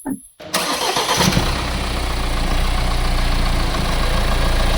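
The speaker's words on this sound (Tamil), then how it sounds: "நான் இப்போ வந்து இன்ஜின் சவுண்டு கூட காமிச்சிருப்பேன்." A Mahindra XUV 700 engine cranks and catches after a brief silence, then settles into a smooth, steady idle with a low, even hum that continues close by.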